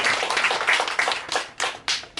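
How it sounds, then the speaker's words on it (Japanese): Audience clapping at a mini live concert and fan event, fairly close and crisp, swelling in uneven bursts before breaking into a few separate louder claps near the end. "拍手をいたします。"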